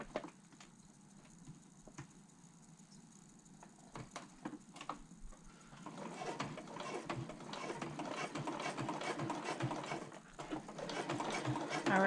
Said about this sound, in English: I am approaching the last stitch of the first top stitching